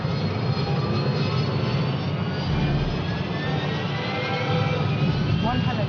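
Jet engines of an easyJet airliner roar during takeoff, heard from the cockpit as a loud, continuous, broadband rumble and hiss that holds steady throughout.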